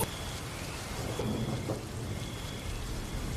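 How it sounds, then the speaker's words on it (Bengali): Heavy rain pours steadily during a violent thunderstorm with strong wind, a dense close roar of drops with low rumbling thunder beneath it. "বাতাসের তীব্রতা বাড়তে বাড়তে একসময় শুরু হলো তুমুল ঝড় বৃষ্টি।"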